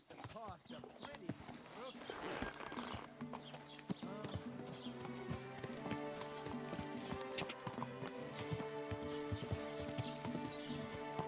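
Horse hooves clip-clop in Kingdom Come Deliverance 2, a steady rhythmic trot of close hoofbeats under background music and layered game sounds.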